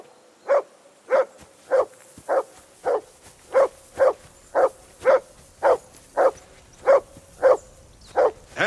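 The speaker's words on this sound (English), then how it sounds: "Whistle at that mutt of yours to stop barking!" A dog in the video game Kingdom Come Deliverance II barks in a steady, evenly spaced series of about fourteen loud, close barks, with nothing else heard.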